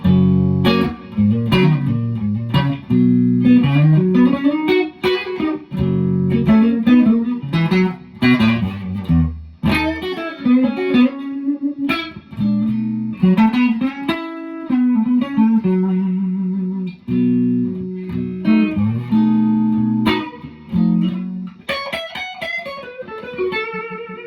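An electric guitar, a Suhr Classic Custom S on its neck pickup, plays through an amp with a warm, round tone, a continuous melodic passage of single notes and chords with a touch of reverb.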